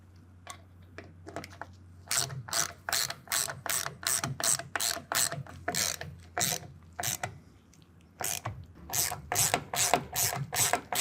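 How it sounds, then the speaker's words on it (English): A T25 Torx bit drives screws on an AMP Research BedStep2 being installed on a 2023 Ford F-250 SuperCrew, giving quick bursts of close ratcheting clicks separated by short pauses. "screws with a T25 Torx bit, and we're going to fasten those to 6 foot-pounds"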